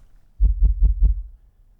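A deep 40 Hz bass tone played through the Airwindows GalacticVibe plugin pulses four times in a quick, even rhythm, dark and throbbing, alone without voices.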